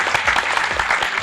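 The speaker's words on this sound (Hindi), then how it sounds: "मैं चाहता हूं कि हम सब जन एक बार जोरदार तालियां बजाएं हर एक टीचर के लिए" At a CA coaching felicitation ceremony, the audience gives loud, vigorous applause for the teachers, a thick, continuous burst of many clapping hands filling the short moment.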